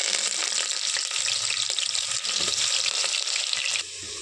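Sliced onions and curry leaves sizzle in hot oil with mustard and fennel seeds for a one-pot rice dish, a loud, steady crackling hiss that dips briefly near the end.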